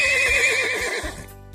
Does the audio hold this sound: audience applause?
no